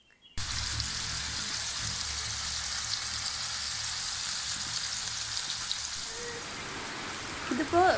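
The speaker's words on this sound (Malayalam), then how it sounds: "ഇന്ന് നല്ല മഴ വരുന്നുണ്ട്" Heavy evening rain pouring steadily, a dense, even hiss of falling water that holds for several seconds, then eases slightly before brief louder splashes near the end.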